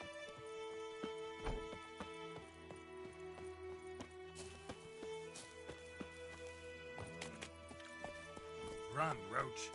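Geralt's horse Roach galloping in The Witcher 3, with faint hoofbeats under constant music and game sounds, and a brief snort or whinny near the end.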